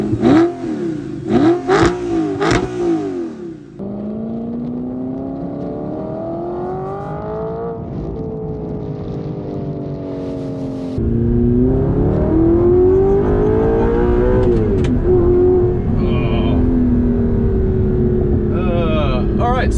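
First-generation Audi R8 engine on a drive: a sharp, loud burst of revving, then a sustained engine note that climbs through the gears, drops at each shift and pulls hard again, close and continuous.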